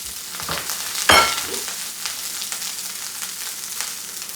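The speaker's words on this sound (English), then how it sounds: "So I'm just going to go ahead and add my green beans. You can hear the pan is hot." A sharp burst of sizzling as green beans hit a hot pan, followed by a steady, softer crackle of frying that continues throughout.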